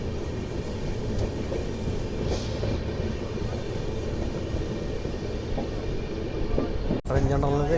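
A passenger train runs from New Delhi toward Chennai, heard from inside a general-class coach. A steady, loud rumble of wheels and carriage noise continues throughout, with a brief clatter near the end.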